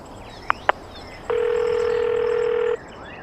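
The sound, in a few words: phone call ringing tone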